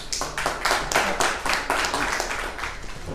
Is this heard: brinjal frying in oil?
no